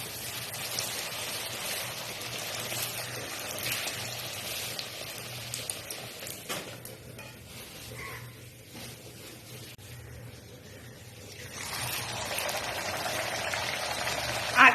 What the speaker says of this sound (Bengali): এইবার এই যে পুরি যে তৈরি করেছি পুরিগুলো সুন্দর করে ভেজে নিচ্ছি।